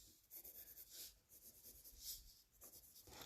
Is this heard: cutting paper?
yes